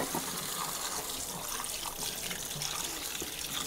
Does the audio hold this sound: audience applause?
no